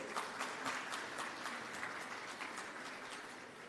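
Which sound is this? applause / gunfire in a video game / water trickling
applause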